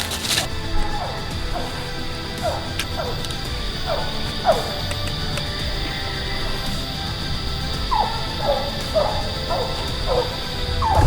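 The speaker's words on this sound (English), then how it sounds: "That's Lone Pine Lady with a coon tree" A hound dog barks at a treed raccoon, rhythmic repeated baying barks at a distance, a steady run of calls that pauses midway then resumes, over an outdoor background hum.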